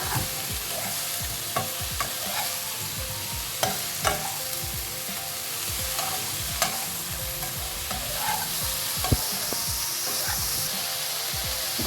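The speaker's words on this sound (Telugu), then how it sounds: "ఇప్పటివరకు మనం ఎక్కువ సెగ మీద దీన్ని వేయిస్తున్నాం" Brinjal and onion curry fries over a high flame, a continuous close sizzle broken by frequent sharp spatula scrapes and clinks against the pan, with no voices.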